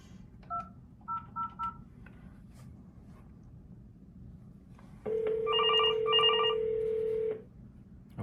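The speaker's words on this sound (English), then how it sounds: "So I'm going to dial this extension." Softphone keypad dialing an extension on a FreePBX VoIP system over an AREDN mesh network: a few short separate DTMF beeps, then a longer steady two-tone burst lasting about two seconds, clear against a quiet background hiss.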